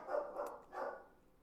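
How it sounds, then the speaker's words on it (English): A dog barks three times in quick succession, fairly close but not very loud, amid an indoor commotion with alarms going off in the building. "I have the dog going crazy"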